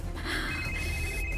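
A phone rings with an incoming call in a TV drama scene, a short electronic ringtone with a sustained tone that plays briefly and fairly clearly.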